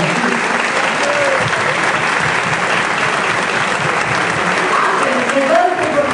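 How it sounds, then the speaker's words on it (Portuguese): An audience applauds steadily for priests at a church event, a dense wash of clapping that holds strong throughout, with voices faintly mixed in. "Vamos dar uma salva de palmas aos nossos padres que vieram aqui?"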